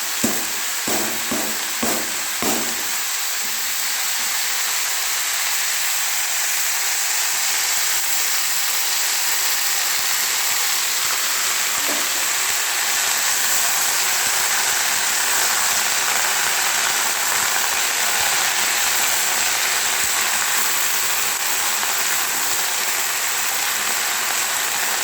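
Spring onion greens fry in hot oil with a constant bright sizzle and hiss, opened by a few quick taps of a utensil against the pan.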